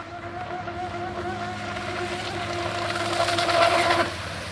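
RC boat motor running at full throttle on water, a steady high whine that holds throughout and swells slightly near the end before easing off.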